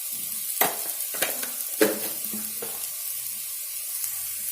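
Green chillies are stirred into taro curry frying in a pan, producing a hissing sizzle with several sharp scraping strokes of the spoon early on, then fading to a softer steady fry.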